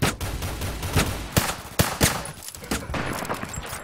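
Sharp sniper rifle shots from an Intervention in an online shooter game, several loud cracks at irregular intervals over a constant background of other gunfire and game noise.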